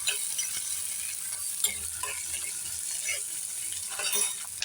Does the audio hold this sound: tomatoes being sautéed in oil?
yes